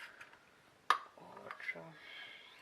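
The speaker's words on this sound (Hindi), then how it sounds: "साथ में मैं इसमें एक अंडा तोड़ के डाल रही हूँ" A single sharp crack and tap as an egg is broken over a bowl of raw chicken pieces for restaurant-style Indian chilli chicken, followed by soft clinks, with a faint voice in the background.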